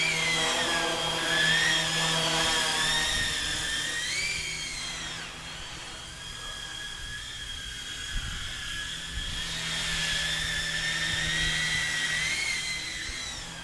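A small ROBAN 470 model helicopter whines steadily nearby, its high motor pitch rising and falling as it maneuvers, with a buzzing rotor drone underneath.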